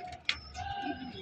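Pigeons in a loft give soft, low cooing calls with a faint chirp and light rustling, quiet and close, with a short sharp click early on.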